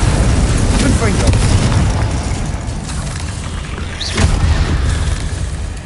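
A Confringo fire spell bursts in Hogwarts Legacy, one heavy boom rising out of a dense, continuous wash of game noise and rumble, fairly loud and close, with a voice speaking over the action.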